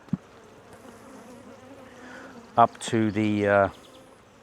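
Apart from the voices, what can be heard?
honeybees on a brood frame from a hive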